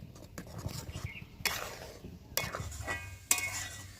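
Tomato sauce bubbling in a pan over high flame is stirred steadily with a spoon, giving soft scraping strokes and a few sharper knocks against the pan, with faint sizzling between them and no talk.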